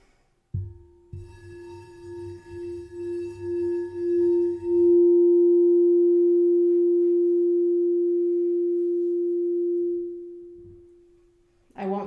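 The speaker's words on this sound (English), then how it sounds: "I won't stop the bowls. I'll let the sound resonate when we're doing the sound bath" A singing bowl is struck several times in a sound bath meditation. It settles into one long, pure ringing tone that swells, holds steady for several seconds and slowly fades, with faint rustling at the start and a brief voice at the end.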